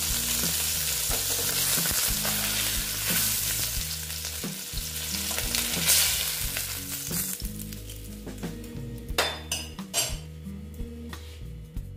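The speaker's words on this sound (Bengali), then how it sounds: "দেখো বন্ধুরা, মাছটা প্রায় ভাজা হয়ে গেছে।" Pomfret fish sizzles and crackles steadily in hot oil in a pan, with a utensil repeatedly scraping and clinking against the pan's surface and a few sharp metallic knocks near the end.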